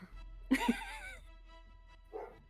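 A dog in the video game Malevolence gives a short yelping bark and whimper, close and fairly faint, followed by a brief softer yip a moment later.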